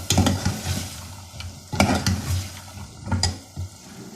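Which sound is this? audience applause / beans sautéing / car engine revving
beans sautéing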